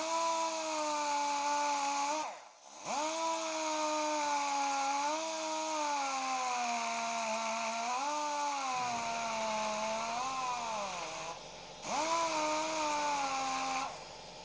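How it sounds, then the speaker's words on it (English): A power grinder cuts an edge off a 1955 Buick Dynaflow automatic transmission valve body, a loud, sustained whine that wavers in pitch as it bites the metal, with two short pauses where it spins down. "we're going to try to grind off this little edge here"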